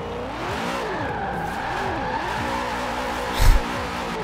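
Tires squeal in long wavering arcs as a car drifts in Forza Horizon 4, with the engine droning beneath and a short loud thump near the end, close and without talk.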